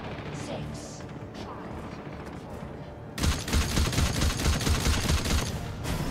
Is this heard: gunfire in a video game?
yes